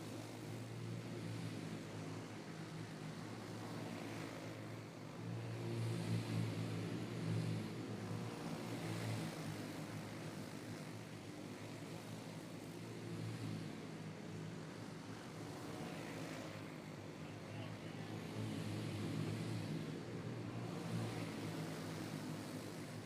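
Racing karts drone continuously around a track during a twelve-kart race, with a layered engine buzz that swells and fades as the pack passes, from a moderate distance.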